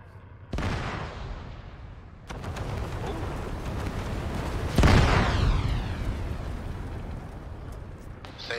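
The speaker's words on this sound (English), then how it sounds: "Careful, explosion inbound from the north." Explosions in the military game Arma, several heavy blasts booming in succession, the loudest landing near the end with a long rolling echo that fades out.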